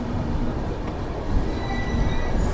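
A Sealdah–Bikaner Duronto express with its locomotive rolls past at steady loud volume, the dense rumble of wheels and carriages carrying faint high wheel squeal, with no talking.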